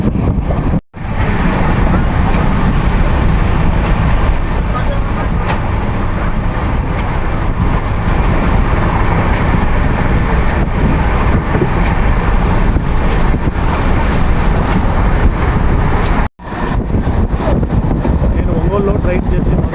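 Loud, steady rumble and wind roar from onboard the 12711 Pinakini Superfast Express running between Vijayawada and Chennai, constant for the whole stretch apart from two brief dropouts.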